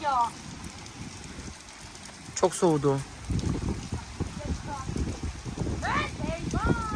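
Rain falls outdoors in a garden during a storm, a steady hiss and patter running throughout while people talk nearby in several stretches.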